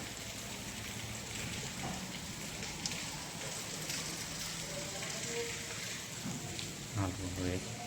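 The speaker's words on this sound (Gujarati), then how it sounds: "બજારમાં તો અત્યારે જોરદાર પાણી ચાલુ પડ્યું છે રાપરનીમાં" Heavy rain falls in a town market, a continuous close hiss of water on surfaces with scattered drips, while faint voices and a few brief tonal sounds rise near the end.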